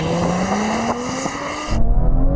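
An Audi S4 with a 3-litre turbocharged V6 and 8-speed automatic launches from a standstill, a loud rising engine note climbing steadily before cutting abruptly into a heavy low rumble, with no talking.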